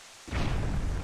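A bomb goes off in the video game Twilight Princess, a sudden loud boom after a brief quiet moment, followed by a rumbling burst that sustains to the end.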